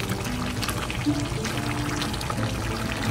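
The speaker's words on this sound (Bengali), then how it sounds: "তেলটা অনেক কম দিচ্ছি, এই জন্য দেখতে পাচ্ছেন তেল দেখাই যেতেছে না।" Cooking oil poured into a pan in a home kitchen, a steady close liquid stream with faint sizzling texture running continuously without a break.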